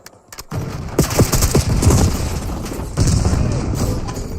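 Semtex grenade blasts mixed with gunfire in a shooter game: a sudden loud boom after brief quiet, then a string of sharp shots and rolling explosions, a second heavy blast hitting around three seconds in.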